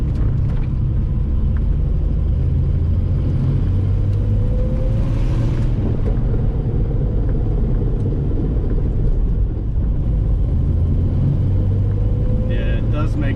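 A 1977 Datsun 280Z engine drones loud and close while driving slowly through a neighborhood, a steady low rumble with a slight pitch change partway through, as the car pulls along in first gear.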